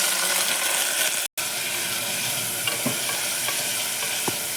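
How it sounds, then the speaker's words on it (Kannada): Mustard seeds, curry leaves and dried fish sizzling and crackling in hot oil in a village-style kitchen, a steady dense fry with a brief dropout and a few sharp pops near the end, no talking. "ಎಣ್ಣೆ ಬಿಸಿ ಆಗಿದೆ ಸಾಸಿವೆ ಹಾಕ್ತಿದ್ದೀನಿ ಸ್ವಲ್ಪ ಕರಿಬೇವು ನಾನು ಬಿಸಿನೀರು ಹಾಕಿ ತೊಳೆದಿಟ್ಕೊಂಡಿರ ಇದು ಡ್ರೈ ಪೀಸ್ ಹಾಕಿ"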